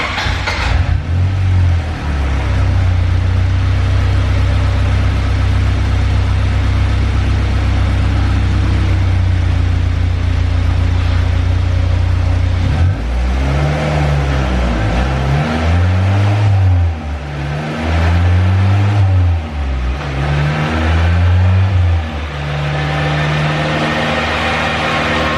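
Turbocharged Honda B20 VTEC engine on a dyno, first a loud steady low drone, then repeated rising and falling revs, swelling and dropping in several close, powerful pulls.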